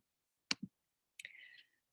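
Two short bursts of computer mouse clicks, close and crisp, as Google Form responses are graded, separated by a brief pause in an otherwise quiet room.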